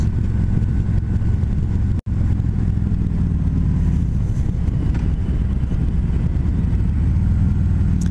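A 2020 Harley-Davidson Street Glide Special FLHXS out on a demo ride, a low, steady engine drone with road and wind rumble that runs continuously, broken only by a brief dropout near the two-second mark.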